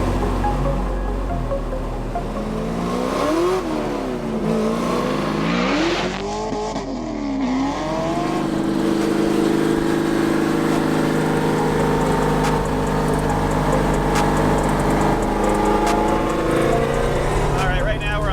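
A supercharged 1964 Pontiac GTO with a blown LS7 engine drives loud and close, revs climbing and falling through gear shifts before settling into a steady high-speed roar on a highway, with some talk over it.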